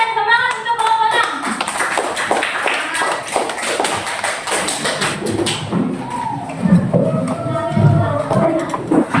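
Classroom applause for student group presentations: a full, dense burst of many hands clapping that runs the whole stretch, with some thumps and voices mixed underneath.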